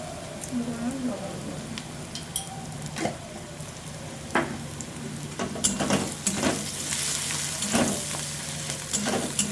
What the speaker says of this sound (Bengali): গ্যাসের ফ্লেমটা মিডিয়ামে রেখে ভালোভাবে ভেজে নেব।